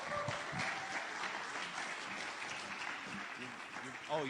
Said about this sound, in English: Please give her a big round of applause as she comes to the stage.